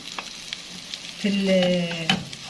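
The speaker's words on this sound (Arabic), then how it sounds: "احب احمر الرز كده" Rice frying in a pan for stuffing chicken, a soft sizzle that swells louder about halfway through with light stirring scrapes and a steady crackle, close and alone.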